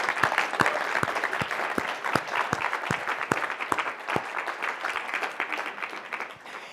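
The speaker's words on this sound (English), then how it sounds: "let's please hear a warm round of applause for our stars for tonight" An audience at a student public-speaking showcase gives a warm round of applause for the evening's speakers, steady clapping with crisp individual claps standing out, sustained and fairly loud throughout.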